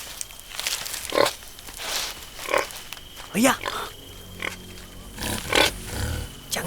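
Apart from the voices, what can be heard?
wild boar grunting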